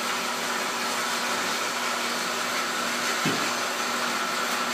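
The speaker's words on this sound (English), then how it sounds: "So we let the saw's own weight do its work." A power saw cuts aluminum extrusion for car chassis rails, running as a steady, loud motor roar with a constant hum throughout and a brief low thump near the end.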